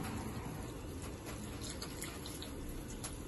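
Water runs steadily from a tap into a container to wash spinach, a continuous close rushing and splashing with no break and no voices.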